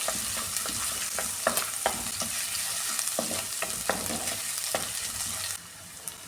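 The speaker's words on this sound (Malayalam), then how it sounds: "ഇനി ഇതിലേക്ക് ഈ ക്രഷ് ചെയ്ത് വെച്ചിരുന്ന ഇഞ്ചിയും വെളുത്തുള്ളി അതും കൂടി ഇട്ട് കൊടുക്കാം." Crushed ginger and garlic fry for a sardine curry: a quiet, steady sizzle broken by repeated spatula scrapes and taps in an uneven rhythm, close by, settling softer near the end, with no voices.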